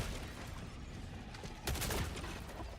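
Automated turret in a video game rattles off a dense burst of rapid gunfire, loud and close, over a constant bed of battle noise and explosions, with the volley swelling sharply partway through.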